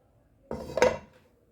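A metal frying pan clanks as it is picked up and set down, a short close metallic knock and scrape with a brief ringing tail in a quiet kitchen.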